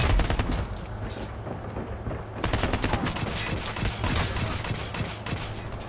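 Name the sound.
gunfire in the video game Call of Duty Mobile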